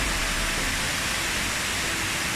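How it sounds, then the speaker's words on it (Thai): The Khun Mae Bei waterfall gives a steady, broadband rush of falling water that fills the whole short stretch without a break. "เรามาถึงแล้วนะครับผม น้ำตก ขุนแม่เบยนะฮะ"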